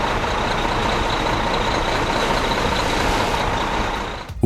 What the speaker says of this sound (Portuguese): O caminhão em si é usado como base para o arco